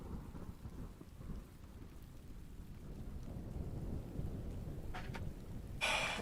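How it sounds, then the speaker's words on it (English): A distant thunder ambience track from mynoise.net plays as a continuous low rumble with a steady hiss of rain, rolling softly and evenly, with a brief brighter crackle near the end. "This is just Distant Thunder."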